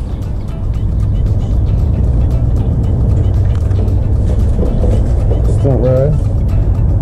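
Kawasaki 636 motorcycle engine running steadily through the stunt riding, loud and continuous from start to end, with a brief rising rev near the close and outdoor rumble throughout.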